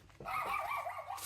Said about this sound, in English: our neighbor dogs are outside barking